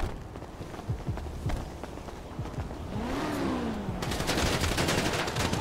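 Gunfire in a GTA roleplay game, a scatter of sharp shots and rapid bursts over low background rumble, growing busier and denser toward the end.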